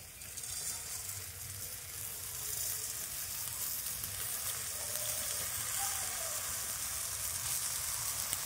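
Raw mango pieces cooking with coarse sugar in a pan give off a steady, close sizzle, with soft stirring scrapes throughout and no talk.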